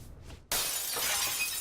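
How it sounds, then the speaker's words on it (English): Glass shatters in the stealth game Hitman (2016): one sudden, loud crash of breaking glass cuts in after a quiet moment and rings on as a bright, sustained spray of falling shards. "We're going to distract him with the coin so that he doesn't see us break the glass."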